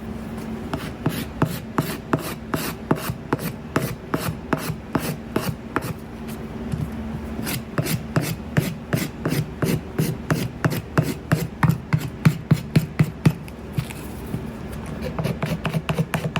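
Rhythmic back-and-forth sanding of old wooden furniture, dozens of quick rasping strokes close by at a steady pace, with brief pauses.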